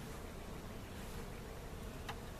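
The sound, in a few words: honey bees buzzing at a nuc hive split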